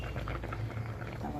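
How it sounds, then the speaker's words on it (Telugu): Water boiling in a pot while making ragi muddha, a steady close bubbling and rumbling that continues throughout. "ఇలా బాయిల్ అవుతుంది"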